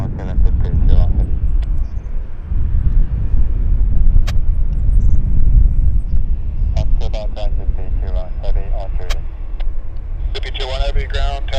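Flair flight 601, an airliner, lands at Vancouver Airport with a deep, sustained engine rumble in the distance, while people talk nearby over the roar.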